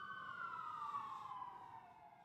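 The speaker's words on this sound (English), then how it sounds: "A little love from the sirens." Emergency vehicle siren wailing in a steady, slowly falling tone, fairly loud and close for a couple of seconds, then fading slightly as it passes.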